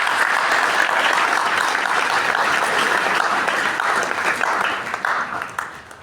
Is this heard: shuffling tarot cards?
no